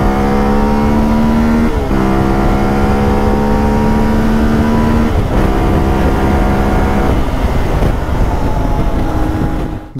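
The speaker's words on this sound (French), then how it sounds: "dernière petite insertion, accélération juste pour le plaisir" A CFMOTO 450 MT motorcycle accelerates hard with the throttle wide open, its engine note rising through the gears in a loud, close run with brief dips at each shift.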